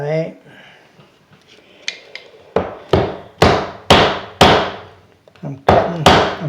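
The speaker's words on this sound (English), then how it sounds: "I'm cutting through this trim" Sharp, loud tool strikes while cutting through door casing trim during tile work, about eight distinct impacts in an irregular rhythm, each ringing and decaying quickly, with quieter rustling between them.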